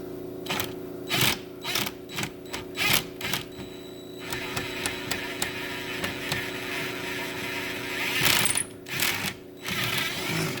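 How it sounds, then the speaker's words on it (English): An impact wrench removes a rear shock bolt on a 2013 Chrysler 300, hammering in short, loud rattling bursts followed by a longer sustained run, close by, with no talking. "Yep, now I gotta use the impact."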